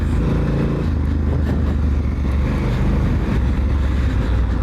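A Honda Africa Twin adventure motorcycle runs hard on a motocross track, its big engine droning loud and constant with heavy wind buffeting on the microphone. Nobody speaks.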